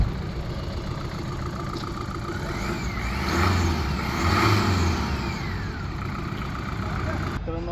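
A Tata Intra commercial vehicle, a second-hand light truck, idles with a steady, smooth low drone and a slight swell in engine sound midway, heard close up.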